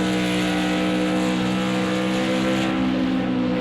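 A race car engine at Le Mans drones loud and close while following a GT3 car, holding a steady, sustained pitch with a rich harmonic roar throughout and no talk.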